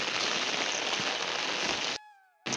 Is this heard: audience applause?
no